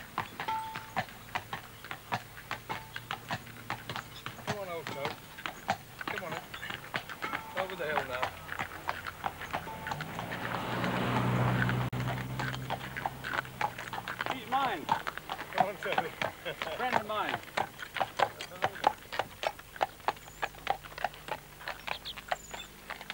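A held horse's hooves clip-clop in a steady, quick rhythm under close conversation, the hoofbeats continuing throughout.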